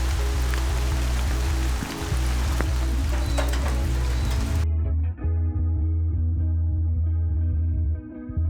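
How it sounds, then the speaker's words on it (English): Steady hissing rain with scattered patters over a loud low hum; partway through the bright hiss drops away and leaves a duller, muffled wash. "it starts to rain."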